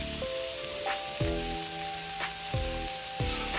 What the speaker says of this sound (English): We got the sizzle.